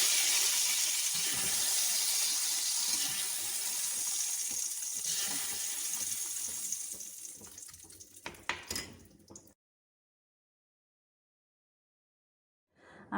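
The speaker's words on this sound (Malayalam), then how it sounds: "കടുക് താളിച്ച് ഒഴിക്കാം." A ghee tempering of mustard seeds and dried chillies is poured into a mango curry, giving a loud rushing hiss that slowly fades, breaks into a few crackles and then drops to silence.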